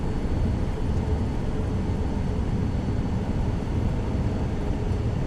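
A steady, loud broadband engine rumble from an airliner taxiing at Auckland, New Zealand, in Microsoft Flight Simulator 2024, droning evenly and continuously with no talk over it.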